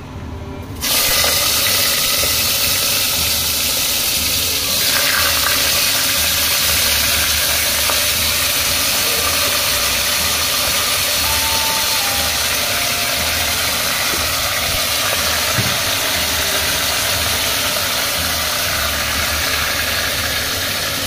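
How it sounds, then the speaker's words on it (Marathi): Mutton fries in a pan over a wood-fired stove, a loud, steady sizzle that starts after a brief silent moment and keeps going evenly to the end. "तर मी आता मटण टाकलं आहे आणि चांगलं फ्राय करून घेते थोडंसं."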